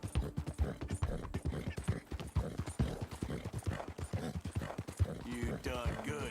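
Hooves of a dapple dark gray Hungarian Halfbred horse in Red Dead Redemption 2 clip-clop in a quick, steady rhythm near and loud, with faint game ambience around them.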